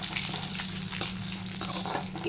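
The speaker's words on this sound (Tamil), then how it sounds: "நின்று போடுங்க, எண்ணெய் தெரிக்கும்." Dried red chillies and curry leaves sizzling in hot oil for a temple-style puliyodharai, a loud continuous crackling hiss with small pops, close and alone.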